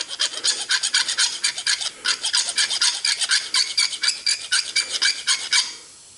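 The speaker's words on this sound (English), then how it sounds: "if you take a file and you flatten that end out" A hand file rasping across the cut end of a metal brake line tube on a 1931 Chevy rat rod build, a steady run of about two dozen quick rhythmic strokes, close and clear, with a short pause midway before stopping.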